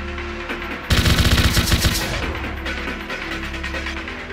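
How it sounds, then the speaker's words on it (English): Rapid burst of homing missiles firing from a mech in the Zone of the Enders The 2nd Runner video game, a loud quick rattling volley of about a dozen launches lasting around a second, then a fading whooshing tail. "Press RT to set the homing missile, and release RT to fire it."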